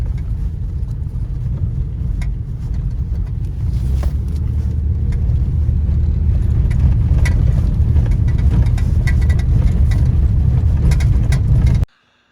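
A 2000 Ford Ranger pickup truck with a makeshift muffler repair and four-wheel drive is being driven, its engine a loud continuous rumble mixed with wind buffeting and rattles that runs for about twelve seconds and then cuts off abruptly.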